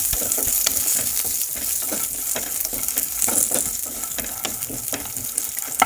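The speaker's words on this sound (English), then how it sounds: "While the mustard is crackling, I am going to add some curry leaves and around 1 teaspoon of ginger chopped" Mustard seeds, curry leaves and chopped raw ginger sizzle in hot oil for tamarind rice, a constant close hiss with sharp crackles and pops and occasional stirring clicks, no talking.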